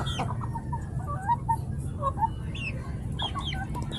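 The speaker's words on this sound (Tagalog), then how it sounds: "Ayan ang ating manok." Chickens cluck softly in short, scattered calls over a low hum, with a few quick chirpy notes nearby.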